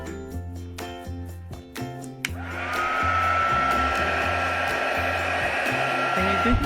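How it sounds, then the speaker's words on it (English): A heat gun switches on partway through and then blows steadily, loud and continuous, used to bond Angelina foil onto doll fairy wings, with background music playing throughout. "Now we're gonna do heating gun."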